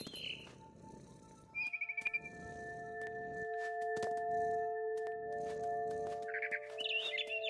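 Birds chirp in a forest scene of the video game What Remains of Edith Finch: bright short tweets and a quick trill sound over a sustained tonal hum and soft rustling ambience, fairly faint and intermittent.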